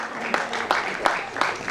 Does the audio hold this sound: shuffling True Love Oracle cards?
no